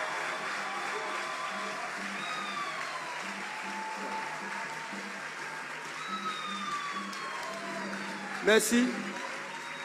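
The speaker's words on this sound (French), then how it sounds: "Acclamons fortement le Seigneur" A church congregation at a spiritual week service applauds steadily in a broad, even wash of clapping, while a faint voice speaks over it and a brief sharp burst stands out near the end.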